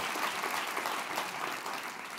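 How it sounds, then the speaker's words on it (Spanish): Congregation applauding during a Friday devotional church service, dense even clapping filling the room, sustained and fairly loud with no voices over it. "Dele un aplauso al, al rey de el universo."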